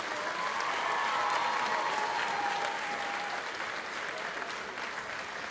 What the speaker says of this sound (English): let's give one more round of applause for all their boys and their hard work tonight